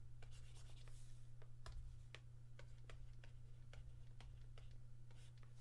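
Pen scratching on paper while working a GCSE maths problem, a run of short, quick strokes and taps close by, faint over a steady low hum.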